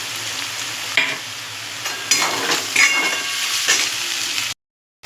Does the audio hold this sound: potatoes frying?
yes